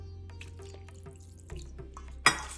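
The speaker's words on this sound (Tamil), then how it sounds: "2 கப்பு தண்ணி விட்டுருக்கேன்" Water is poured into curd in a kitchen, giving a faint trickle with light drips that ends in a brief, louder splash near the end.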